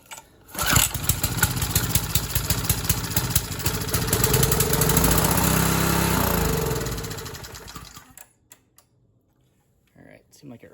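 Briggs & Stratton 3.5hp small engine set on a rug, starting with a sharp pull and then running at a rapid, rattling putter that swells, fades and sputters to a stop as it runs out of gas.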